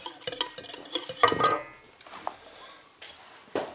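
A whisk beats a yeast and honey mixture in a bowl, with quick rhythmic clattering and scraping against the bowl, close up, easing off toward the end.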